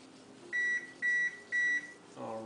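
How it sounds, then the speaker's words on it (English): Three evenly spaced electronic beeps from an oven as it preheats, each short, steady and clear, with quiet room sound between them. "that's the sound of the oven being preheated"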